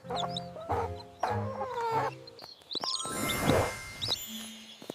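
Three little yellow baby chicks in a cartoon cheep and chirp in short bright calls, close and fairly clear, with soft tinkling sounds and scattered background effects mixed in.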